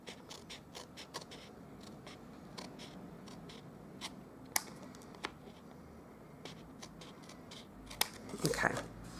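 Paper card stock being trimmed for a Christmas gift card holder, heard as a string of quiet, close cutting clicks and soft scrapes, ending in a brief burst of paper handling.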